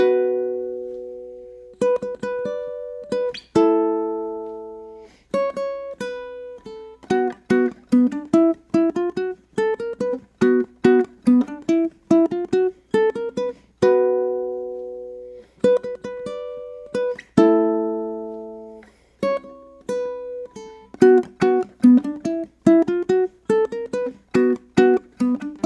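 Solo ukulele plays the bridge riff of a song, plucked notes and strummed chords repeated twice through in a steady, clear rhythm with no voice.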